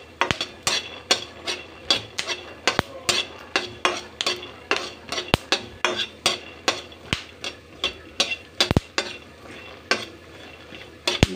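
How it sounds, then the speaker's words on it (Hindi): Ingredients for poha crackling in a hot pan, with a steady low sizzle punctuated by dense, irregular sharp pops that continue throughout at close range, with no talking. "उसमें से आवाज़ आने लग गई है, तो इसका मतलब है क्रैकर्स कर रहे हैं, ये हमारे फ्राई होने शुरू हो गए हैं"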